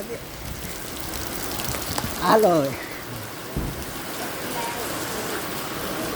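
Steady rain hisses continuously on the hill at Chotila, with a person speaking briefly over it partway through.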